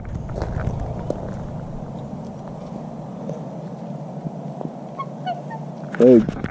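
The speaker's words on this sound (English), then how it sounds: "There are these great big huge black swans around here." A large black swan gives a short, loud honk near the end, after a stretch of quiet outdoor background with faint distant calls.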